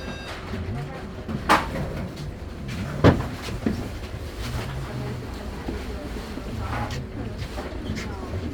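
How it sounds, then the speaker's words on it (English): Doors on a city bus in Brooklyn clunk and hiss open, with a sharp mechanical thud mid-clip amid rumbling engine noise and a few smaller knocks, while an automated voice announces in the background. "Doors open."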